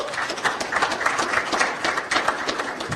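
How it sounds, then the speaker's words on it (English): A crowd claps steadily for newly introduced board members at an organization's annual meeting, a dense, continuous crackle of hands at moderate volume lasting throughout. "If you can give them a round of applause"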